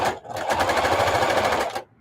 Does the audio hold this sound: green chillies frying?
no